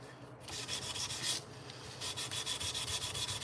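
Steady back-and-forth strokes of 320 grit sandpaper rubbing on steel at a forge workshop, a close, even rasping rhythm that keeps going throughout.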